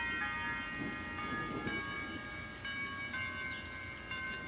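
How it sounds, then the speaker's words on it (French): Church bells within a music track ring as sustained, overlapping metallic tones that restrike every second or so over a dense low instrumental bed, moderately quiet. "alléluia, les cloches de l'église."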